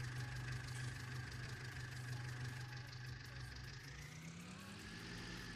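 An Ursus tractor engine idling in a farming video game, a steady low drone with a hum that shifts slightly in pitch near the end.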